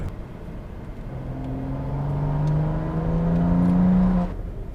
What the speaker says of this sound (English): So here's a little second gear pull.